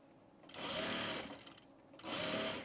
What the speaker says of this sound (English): So I'm just gonna sew the bias right sides together and then just turn it to the inside